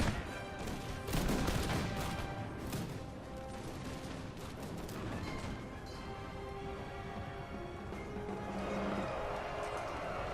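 Musket volleys crackle in a Napoleonic battle from Napoleon: Total War, infantry lines trading fire with Swiss foot in a tree line; dense, continuous rolling gunfire with layered crackling bursts, no voices.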